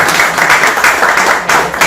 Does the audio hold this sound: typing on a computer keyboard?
no